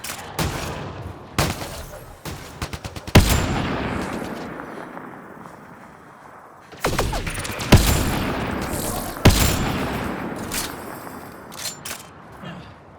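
Gunfire in the video game Mass Effect: Andromeda, with loud rapid bursts and single sharp shots separated by short lulls as echoing tails fade out.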